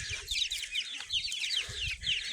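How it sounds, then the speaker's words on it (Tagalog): A turkey nearby gives a string of high, chirpy clucking calls in quick repeated bursts, fairly close and moderately loud. "So yun yung pabo natin, no."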